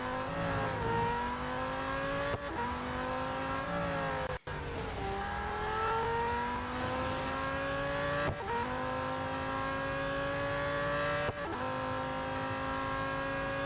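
Car engine racing in the video game Real Racing 3, a continuous high-pitched whine climbing through repeated gear shifts, each brief dip followed by another rising pull, steady and unbroken.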